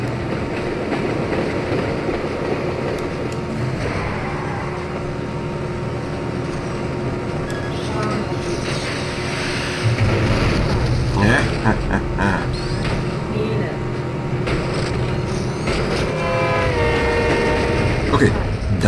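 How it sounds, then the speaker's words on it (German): A train rolls up from behind in the Spy Hunter video game, a steady loud rumble of rail noise with wheel clatter that swells partway through, under continuous game engine sound. "Dann sieht man auch den Zug kommen."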